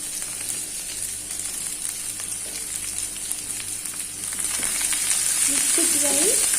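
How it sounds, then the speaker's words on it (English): Vegetables and green chilies frying in a pan for veg noodles, a steady loud sizzle with stirring that swells louder toward the end, with no talking. "now we will add the vegetables. Green chilies,"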